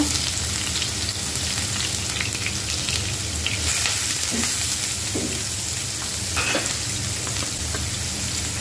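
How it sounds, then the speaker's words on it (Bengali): Onion frying in oil in a pan, a steady dense sizzle and crackle running unbroken throughout at close range, with a few faint clinks. "একটু অয়েল দিয়ে দেব, পেঁয়াজটা দিয়ে দেব"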